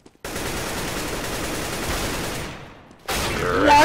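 Sustained gunfire in a video game, a dense continuous rattle of shots aimed at the player, loud and close, breaking off briefly before another burst resumes.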